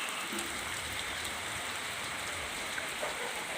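Steady rain pours down in a dense, even hiss, close and continuous, with no voices over it.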